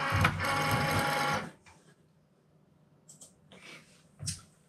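A Cricut Maker cutting machine draws in its cutting mat with a loud, steady motor whir for over a second, then falls quiet apart from a few faint mechanical clicks and shuffles close by.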